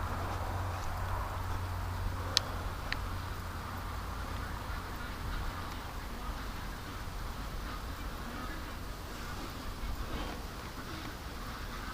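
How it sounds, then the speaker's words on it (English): Ducks kept in a pen beside a swamp at night quack in alarm at a nearby coyote, with a couple of sharper calls standing out over a steady wash of background noise. "But the way the ducks are freaked out,"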